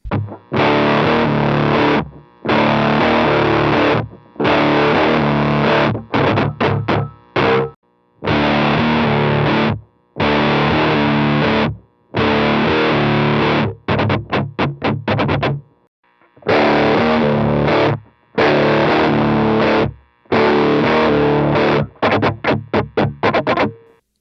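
A heavily fuzzed electric guitar through a Tone Bender fuzz pedal plays loud, saturated riffs in bursts separated by short silences, with some quick choppy strums.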